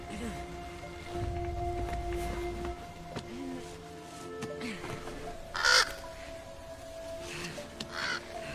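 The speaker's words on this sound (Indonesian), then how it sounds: "Bran Stark melihat gagak bermata tiga dalam mimpinya" Crow cawing, the three-eyed crow of Game of Thrones: harsh caws repeat several times at moderate distance over a dark, rumbling ambient bed, with one sharp louder burst midway.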